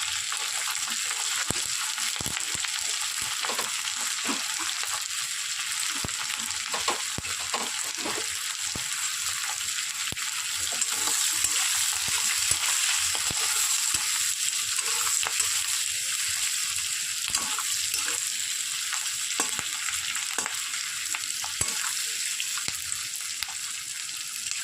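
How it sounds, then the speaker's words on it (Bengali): Chopped onions frying in the same oil already used to fry chicken for chilli chicken, a loud continuous close sizzle with faint scraping and stirring ticks, steady the whole time. "এবার আমি দিয়ে দেবো কেটে রাখা সমস্ত পেঁয়াজগুলো।"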